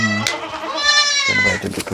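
A goat on a farm in Hurghada, Egypt bleats loudly and close by in a long, wavering cry, with shorter bleats before and after, while voices murmur in the background.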